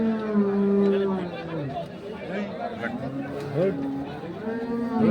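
Drawn-out lowing of a bull rises over the busy chatter of a crowd at a cattle market in Kaharol, Dinajpur, with several moos overlapping the voices.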